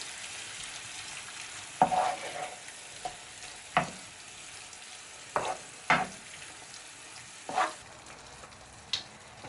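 Beef and softened onions sizzle steadily in a pan while a utensil stirs them in periodic scraping bursts, roughly every second or two, close up with no talking.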